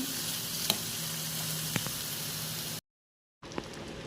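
Chicken fry sizzling in a pan, a loud steady hiss with a couple of faint clicks, broken by a brief total dropout before the sizzle resumes, no voices.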